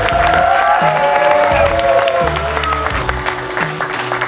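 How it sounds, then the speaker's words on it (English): Audience applauding the teams at a university chemistry competition, ChemCup, a steady wash of clapping with a few cheers and whoops, loud and sustained under some music-like tones throughout. "So big applause for everyone who participated."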